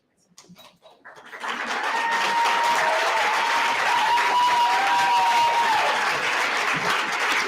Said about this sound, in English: thank you all for the applause, for the recognition for those students